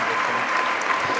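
An audience applauds a speaker after a talk, a dense and steady wash of many hands clapping throughout.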